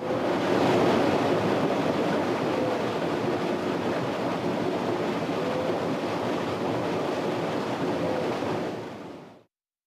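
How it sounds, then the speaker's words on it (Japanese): Hitachi BD-S7400 drum washing machine running its automatic drum-back cleaning at the end of the rinse cycle, a loud, steady rushing of sloshing water and whirring that continues evenly, then cuts off abruptly. "ドラムの裏側をお掃除している時の音です。"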